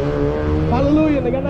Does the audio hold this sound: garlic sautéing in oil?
no